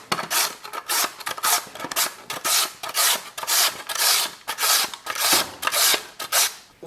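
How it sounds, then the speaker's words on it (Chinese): A carrot is shredded on a grater in steady, rhythmic rasping strokes, each about half a second long with short gaps between them, close and fairly loud with no talking. "然后准备胡萝卜，给它弄点丝儿。"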